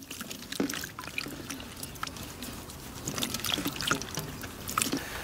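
Tender native ivy gourds, half a kilo, being rinsed by hand in water, with soft splashing and trickling that swells and eases in uneven bursts over a few seconds, close and fairly quiet, no talking.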